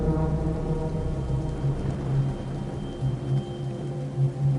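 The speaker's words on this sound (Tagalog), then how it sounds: "Malamig ang patak ng ulan noong gabing yon." Steady rain falls with a constant wash of noise, a low rumbling tonal drone sitting under it throughout.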